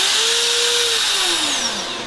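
Brushless die grinder spinning at around 18,000 RPM, a steady high-pitched whine close by that sags slightly in pitch toward the end, with no talking.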